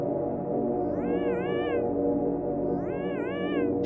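A character in the video game Yume Nikki meows twice, each a clear, rising-and-falling synthesized cat meow about two seconds apart, sitting over a steady, dense background music track.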